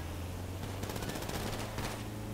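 Video game gunfire rattles in fast automatic bursts over a steady low engine-like hum, two clusters of rapid shots standing out through a dense, even mix.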